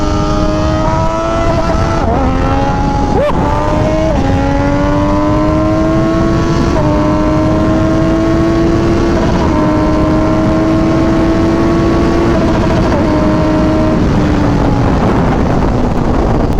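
An MV Agusta Superveloce motorcycle with an SC Project exhaust revs hard and repeatedly, its loud, raspy engine climbing and bouncing off the rev limiter over and over, close and continuous.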